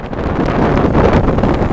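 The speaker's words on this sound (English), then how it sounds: "It is cold and windy, like if you can't tell." Cold winter-storm wind buffets the microphone on the Virginia Beach shore, a loud, steady, rumbling roar with gusty swells throughout and no voices.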